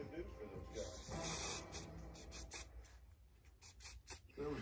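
Lace tint spray from a can is sprayed onto a wig's lace in short, close hissing bursts, interleaved with faint rubbing sounds, in a quiet indoor setting.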